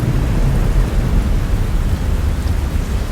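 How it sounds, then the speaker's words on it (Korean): Thunder rolls over steady heavy rain, a dense continuous low rumble and hiss filling the whole stretch with no voices. "천둥도 치고 번개도 쳐요"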